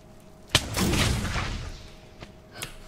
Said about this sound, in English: Wait, did it just shoot out cannons?